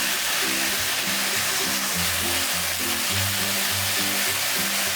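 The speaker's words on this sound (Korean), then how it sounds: "불을 다시 켜고 빠르게 볶아주세요." Mushroom and tofu sauce thickened with starch slurry is stir-fried quickly in a pan, giving a steady dense sizzle with a low rhythmic rumble underneath, continuous and fairly loud throughout.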